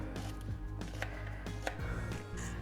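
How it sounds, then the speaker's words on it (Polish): A knife cuts a rhubarb stalk on a board with several crisp, evenly spaced chops, close and fairly soft, over a steady low background hum. "i jedną laskę kroimy"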